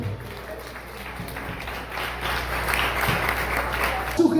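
A church congregation breaks into applause that swells from a light patter into a broad, sustained wash of clapping.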